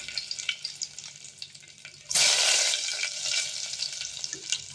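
Chana dal tipped into hot oil in a pan bursts into a loud, sudden sizzle after quieter kitchen noise, then keeps frying steadily with a softer crackle.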